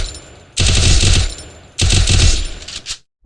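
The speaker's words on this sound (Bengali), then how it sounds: "তো যাই হোক দেখা যাক আমাদের এই হেডশট কিরকম লাগতেছে রোমান্সি এফএফ এর সেটিংস অ্যাপ্লাই করার পর" Loud bursts of automatic gunfire from the Free Fire game played on Bluestacks, two rapid volleys of about a second each, then a short single shot before silence.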